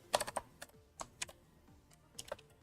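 Close, quiet keystrokes on a computer keyboard come in a few brief, irregular clusters of clicks separated by short pauses, with no talking over them.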